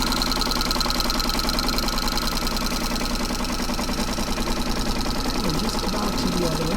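A sewing machine quilting a scrappy strip quilt with a walking foot, running as a continuous rapid mechanical whir close by, with a voice talking over it.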